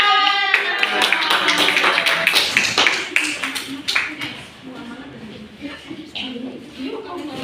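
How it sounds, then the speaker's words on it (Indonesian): Classroom clapping from students during a lesson presentation, a burst of hand claps under the teacher's speaking voice, fading and growing sparse after a few seconds. "Tepuk tangan."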